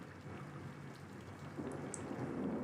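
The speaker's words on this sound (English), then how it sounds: "Can't even see the other side of it with all of this rain" Heavy rain falls outdoors by a school pool in the horror game Corpse Party, a steady, soft hiss of downpour with no pause, swelling slightly toward the end.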